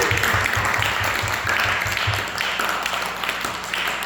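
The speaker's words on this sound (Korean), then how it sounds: "하나님께 영광의 박수 한번 해주세요." A church congregation at a youth retreat's opening worship service claps steadily and energetically, close and sustained, with a low rhythmic thump running underneath.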